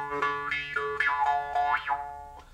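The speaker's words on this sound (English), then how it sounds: "the nice thing about these harps is they've got very clear harmonics" A Nepalese jew's harp twangs with a bright buzzing drone, its pitch-like overtones sweeping up and down in repeated wah-like glides as the tongue shapes the sound, alone and clear.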